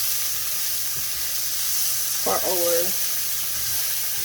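Scallion and onion fry in a pan with a steady, broad sizzle that goes on throughout. A short voice comes in briefly partway through.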